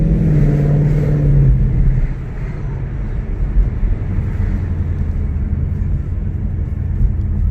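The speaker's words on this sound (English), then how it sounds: "So we've got the beautiful burble of the V8." A 2018 Ford V8 cruising on open roads gives a deep, continuous exhaust burble and low rumble, steady and fairly loud from inside the cabin, easing slightly after a couple of seconds.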